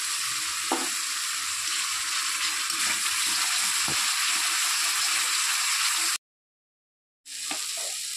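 Spice masala for a Bengali fish curry sizzles and fries steadily in a pan, with occasional stirring scrapes, then cuts to a second of silence before the frying resumes.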